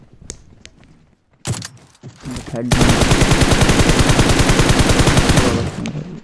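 Rapid automatic gunfire from the mobile battle-royale game PUBG Mobile, a few scattered shots first, then a loud, sustained burst of closely spaced shots lasting several seconds.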